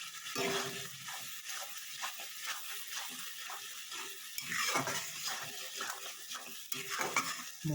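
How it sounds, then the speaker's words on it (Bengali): Spice paste stirred and fried in a pan for chicken aloo curry, a steady soft sizzle with repeated scraping strokes of a spoon against the pan and occasional metal clinks, close and without talk. "মশলাটা একটু কষা হয়ে যাক।"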